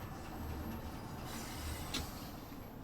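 A London Underground Bakerloo Line train in the simulator game Train Sim World 2 rumbles steadily along the track, a continuous rolling drone with faint rail noise and no talking.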